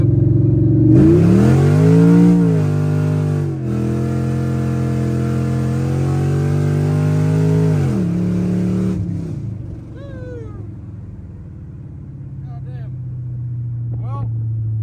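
A 5th-generation Chevrolet Camaro on the road, its engine droning loud and close, climbing in pitch through revs with a brief break between pulls, then easing off to a quieter idle-like hum.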